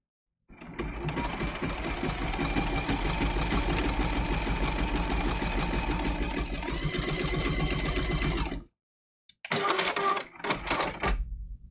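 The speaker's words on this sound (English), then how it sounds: "test out some satin stitches right here" A sewing machine runs steadily, stitching satin stitches for a raw edge flying angel applique, then stops and gives two brief closing bursts. It is loud, close and mechanical, with no voices.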